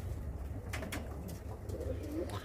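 A pigeon, a domestic tumbler kept in a coop, gives soft low coos close by, with a few faint bird calls and light background rustle.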